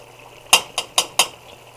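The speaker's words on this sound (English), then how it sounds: "Added the paste, and we're just going to stir that in for maybe a minute." A spoon stirring tomato paste into a pot of tomato soup makes four bright metallic clinks against the pot, spaced unevenly over a quiet low hum.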